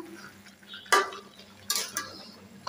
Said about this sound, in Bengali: মুরগিটা সুন্দর করে কষিয়ে নিচ্ছি, চুলা পরে দিলাম এইমাত্র।